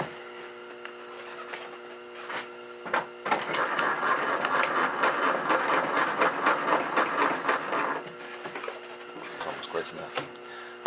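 A radial arm saw cuts through a wood board clamped to a backing board for guitar neck building. The motor hums steadily, then a loud, rough cutting roar runs for about five seconds before it drops back to the idling hum.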